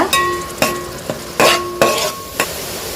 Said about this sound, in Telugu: పెరుగు వేసుకోగానే బాగా కలుపుకోవాలండి లేకపోతే గడ్డలు గడ్డలుగా వచ్చేస్తుంది